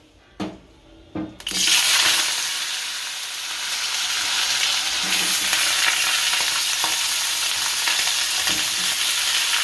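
Thin potato slices for Gujarati batata ni patri hit a pan of hot oil: a couple of light clatters, then a sudden loud burst of sizzling that settles into a steady, close frying hiss.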